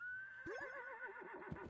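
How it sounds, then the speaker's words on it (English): A horse whinnies in the Fields of Mistria farming game, a clear descending neigh with wavering pitch lasting over a second, set against a soft steady ambient game background with no talking. "I hear a horse."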